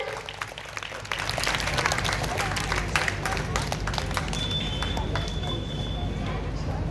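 School audience at a grade 2 assembly clapping, a busy patter of many small hands that swells after the first second and holds steady, with some voices underneath.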